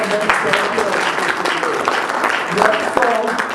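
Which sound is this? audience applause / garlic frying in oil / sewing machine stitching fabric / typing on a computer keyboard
audience applause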